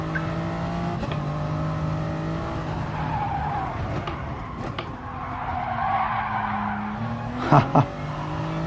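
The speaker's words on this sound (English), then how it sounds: "I tried to trail brake it nicely around there and just ended up sending the car into a slide" Race car tires squeal in a long slide during a racing game, a steady screech over the droning engine, ending with a couple of sharp thumps.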